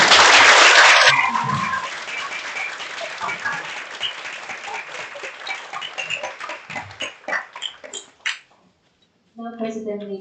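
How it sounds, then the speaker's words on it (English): Applause from a lecture audience for a visiting professor, starting as a loud burst that thins into scattered claps before fading to silence, with voices speaking briefly at the end. "let's just give up the applause to Professor Gunter Pauli"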